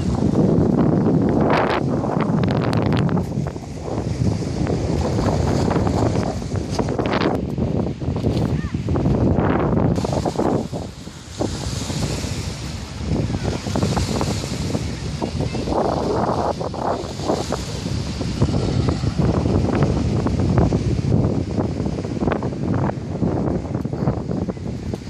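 Wind buffets the microphone in strong gusts beside Lake Ontario on the Kingston boardwalk, with lapping water and rustling beneath and occasional voices, loud and continuous with brief lulls.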